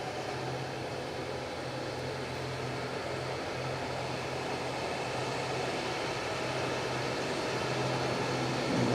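An airliner drones steadily on a steep approach at Nagasaki Airport, a distant, even engine roar that swells slightly louder toward the end.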